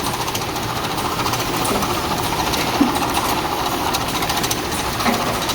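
A CR8 250 rotary heat-sealing packaging machine bagging popcorn runs with a continuous dense mechanical rattle and hum, steady and close, with a few faint knocks and no voices.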